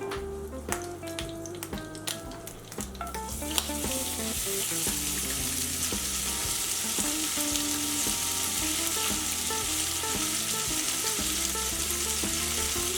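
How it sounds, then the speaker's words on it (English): Four slices of bacon fry in leftover sausage grease in a pan, a loud, steady, close sizzle with crackling that runs the whole time, over soft background music. "we just want to let our bacon crisp up on it"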